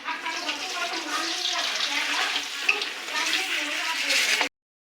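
A batter of rice flour being mixed and fried in a pan, a steady close crackling sizzle with stirring scrapes that runs continuously for about four and a half seconds before cutting off.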